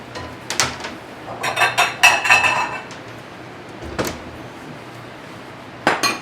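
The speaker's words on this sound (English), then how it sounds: "Let me get a bigger bowl." Bowls and dishes being pulled out in a home kitchen while making einkorn biscuits, a cluster of clinks and knocks followed by a couple of isolated sharp clatters, fairly close and with no talking.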